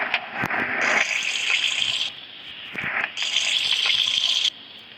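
Shower water runs and splashes steadily during bathing, a loud close gush that drops briefly twice and returns, with no talk over it.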